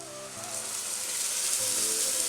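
Ridge gourd paste added to hot oil sizzles with a steady, loud frying hiss over faint background tones.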